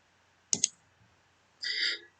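Two quick close mouse clicks in a rapid pair, then a brief electronic tone a second later, otherwise quiet.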